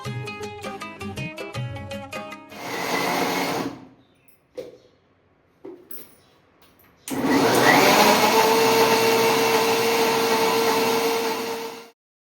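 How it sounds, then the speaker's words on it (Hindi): A kitchen mixer grinder grinds soaked lentils in loud whirring bursts, stopping and starting with short quiet gaps before a long sustained grinding run that cuts off cleanly. "आराम से हम मिक्सी में पीस सकते हैं।"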